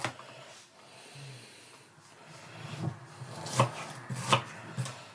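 Knife chopping vegetables on a wooden board while preparing potée auvergnate, a few irregular, fairly soft thuds that grow more distinct toward the end over a quiet kitchen background.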